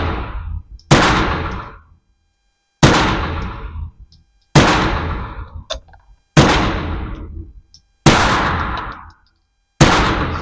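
A suppressed Scorpion VZ61 submachine gun fires six separate loud bursts at roughly two-second intervals, each a sharp crack that decays quickly into silence, close and outdoors.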